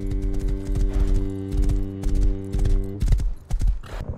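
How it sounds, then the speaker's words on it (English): Horse hooves clip-clop in a rhythmic gallop in the video game Rust, loud and near over a steady droning music or ambient bed, with a brief whinny-like burst toward the end. "Found the horse."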